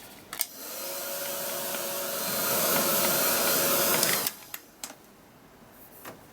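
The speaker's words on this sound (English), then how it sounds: "then we can just quickly give that a blast to dry it off" A hand-held craft heat dryer blasts air over a paper image, a whooshing hum that swells for about four seconds and then cuts off, followed by a few sharp clicks and taps.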